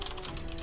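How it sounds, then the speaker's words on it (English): A person types on a keyboard during an online tabletop game session, producing rapid, even clicking keystrokes close to the microphone, steady and continuous with no talking over it. "Ian is typing."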